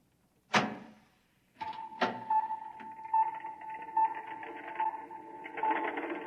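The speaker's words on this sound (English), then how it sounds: "Open the door." Door opening in a 1956 science-fiction radio drama: a sharp knock-like thud, then a second click, followed by a steady mechanical hum with rhythmic pulses that carries on to the end.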